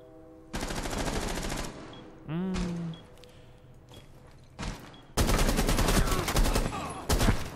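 Bursts of automatic gunfire from the video game Rainbow Six Siege, loud broadband rattling volleys separated by brief pauses, with one long sustained burst near the end and a rising mechanical whine in between.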